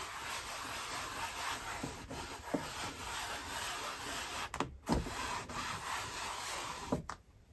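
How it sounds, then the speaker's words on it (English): A cotton bud rubbing grime off an acrylic painting on canvas gives a continuous soft, close scratchy rubbing, with a few louder scrapes and taps along the way. "you could always try using like a little cotton bud just to work your way into some of those"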